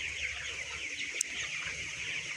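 Chickens in a shed at night give soft, scattered clucks over a steady background hiss, faint and distant, with one brief sharp click near the middle.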